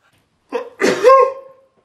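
A single close, forceful sneeze with a short sharp intake before it, then quiet.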